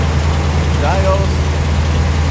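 A Dodge Ram 1500 pickup engine idles with a steady low rumble close by, while a voice briefly speaks over it.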